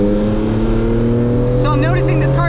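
A BMW Z4M Coupe engine spins hard toward about 8,000 RPM, its loud, steady howl rising in pitch, with a voice briefly heard over it near the end.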